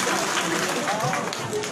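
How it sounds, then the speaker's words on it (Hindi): An audience at a foundation-day and birthday celebration claps in a dense, steady burst of applause welcoming a singer, heard with a voice talking over it. "हम चाहेंगे चंदे की हाजिरी आप भी जोरदार तालियों से स्वागत कीजिए।"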